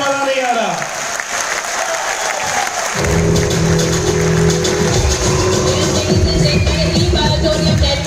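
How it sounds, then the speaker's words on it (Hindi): Audience applause at a ceremony, a steady loud wash of clapping running the whole stretch, with a low rumble and tonal hum joining partway through. "प्लीज जबरदस्त तालियां हो यार"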